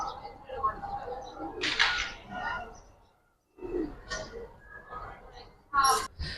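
Sabchila pigeons in a fancier's loft: soft, low cooing in a few bursts, mixed with wing flutters and nearby talking.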